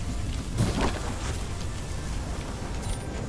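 Storm ambience in a video game, a steady wash of rain-like noise with a brief louder rumbling swell early on, with no talking.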